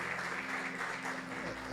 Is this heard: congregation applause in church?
yes